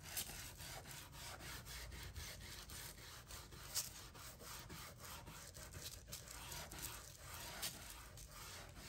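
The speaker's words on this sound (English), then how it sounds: "You want to go ahead and scrub the surface." Transparent foil is scrubbed firmly onto a surface, giving repeated close, faint, rhythmic rubbing and scraping strokes that continue throughout.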